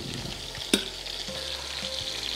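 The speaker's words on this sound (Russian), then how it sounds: "на лук поступает имбирь и чеснок" Ginger and garlic sizzling with onion in a hot pan, a steady close frying hiss with a sharp clatter of a utensil stirring near the start.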